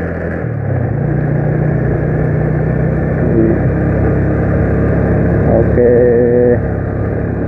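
A Yamaha Jupiter motorcycle engine in third gear climbs uphill with a loud, steady droning hum and slight shifts in pitch. A voice speaks briefly over it.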